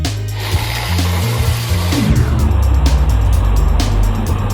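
A Hurricane Sonic drift-focused RC car drifts loudly up close, its electric motor whining and shifting pitch continuously with tire scrubbing throughout, no voices.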